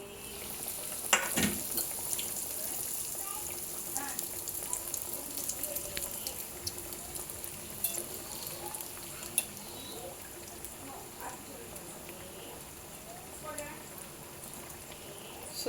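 Breaded soya nuggets fry in oil over a slow flame, giving a continuous soft sizzle and crackle with scattered pops and occasional clinks nearby, while a voice talks at intervals.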